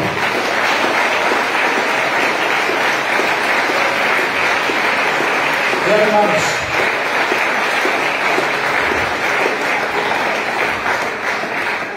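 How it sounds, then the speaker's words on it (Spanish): An evangelical church congregation claps for the Lord, a loud, dense, continuous applause filling the room for several seconds while someone speaks over it in Spanish. "Den un aplauso al Señor."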